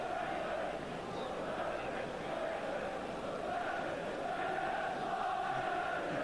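A football stadium crowd at half-time during a 1988 Division One match between Derby County and Manchester United, a steady dense roar of many voices that stays loud and continuous throughout.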